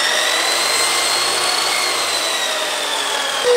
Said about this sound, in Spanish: ¡Un taladro para batir la masa!